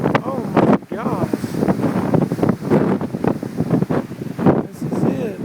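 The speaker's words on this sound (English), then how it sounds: "Oh, the wind is picking up heavy." Strong wind gusting and roaring around the microphone during a tornado in Tuscaloosa, near Townsend Ford, steady and loud beneath excited talking and exclamations.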